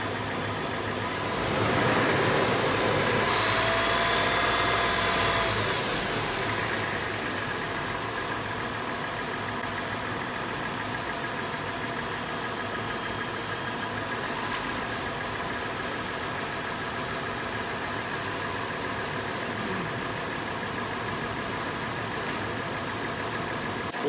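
A Toyota 4Runner engine idles steadily while warming up, a constant close hum that runs unbroken throughout, with a brief louder rush early on and no talking.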